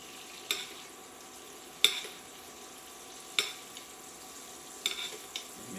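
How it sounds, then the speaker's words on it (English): A cauliflower steak is basted with melted butter in a pan: a soft, low sizzle runs under a few sharp spoon taps and scrapes against the pan, spaced a second or so apart. "Now, the fun part, we're going to baste it."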